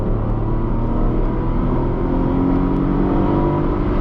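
Tata Tiago hatchback accelerating hard in sport mode, engine revving high before a gear shift, loud and steady close-up drone with no talking.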